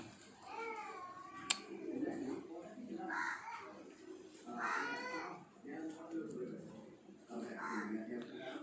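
A cat meows several times at intervals, rising and falling wails, with soft talk and a brief click in the quiet background.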